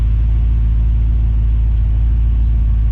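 Car with a supercharged Coyote engine swap, driven with overdrive locked out and no sway bar, giving a loud, close, steady low engine rumble with an even throb and no speech.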